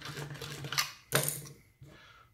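A hand deburring tool scrapes around a hole in steel, enlarging it. Close, fairly loud scraping and clicking strokes come in a few bursts with a sharp metallic catch, and no talk.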